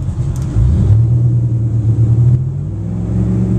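Boat engine running at 2,000 RPM while moored at the dock, heard from the captain's chair: a steady, loud low rumble with a droning hum that settles after a slight rise, alone without voices.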